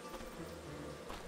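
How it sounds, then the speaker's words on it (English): Bees drone in Titan Quest, a soft steady buzzing hum that stays fairly quiet and continuous over the short stretch, with no voices on top. "I'm happy here with my bees, and they are my friends."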